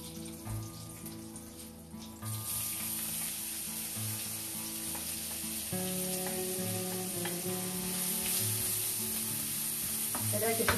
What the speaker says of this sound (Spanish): Y ahora echaremos la cebolla.